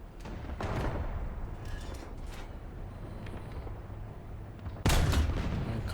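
Tank cannon shots in the War Thunder video game: two heavy booming blasts, one early and a sharper, louder one near the end, over a low rumbling engine bed.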